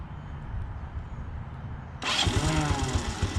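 A 1985 Honda TRX 125 ATV engine catches after a quiet stretch, bursting into a loud, steady idle with a rapid low exhaust pulse in the second half.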